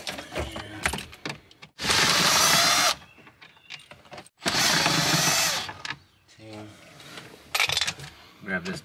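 A cordless power driver whirs in two loud bursts of about a second each while backing Torx 15 screws out of a 2007-14 Chevy dash, with handling clatter and a voice speaking in between.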